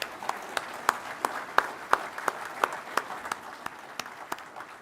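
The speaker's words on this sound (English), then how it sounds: "Can we give all employees a round of applause" Clapping at the Central Lakes College Staples Campus commencement in 2023 comes as sharp, fairly steady beats about three per second, fading slightly toward the end.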